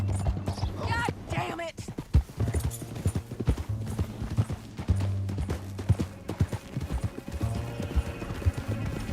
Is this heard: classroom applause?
no